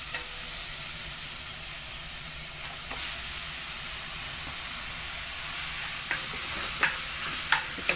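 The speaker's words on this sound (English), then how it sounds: "Let's keep stirring until the onion is tender or soft and it's light brown." Chopped onion frying in a pan with a constant close sizzle, occasional clinks of a utensil stirring it near the end.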